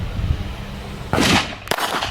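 Two sharp shots from a Beretta Bobcat .22 pistol firing Winchester ammunition ring out close by, the second following about half a second after the first, each with a brief echoing tail.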